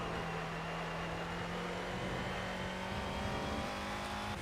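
A race car engine in the Project Cars racing game drones steadily at high revs with a sustained, slightly shifting pitch, loud and close throughout with no talking.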